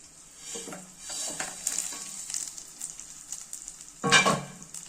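Vermicelli with cardamom and cashews frying in ghee gives a soft, steady sizzle, broken by scraping stirs and a louder spoon scrape near the end. Close, moderate volume, no voices.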